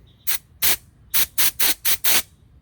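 Compressed air blasts through the pilot jet of a Nibbi 30mm PE carburetor from an X-Pro Templar 250, seven sharp hissing bursts in quick succession, close and loud, the later ones coming in a fast, even rhythm.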